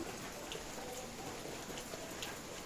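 Rain falls steadily in the mountains as a faint, even hiss of dense patter with scattered soft drip ticks, continuous throughout and without voices.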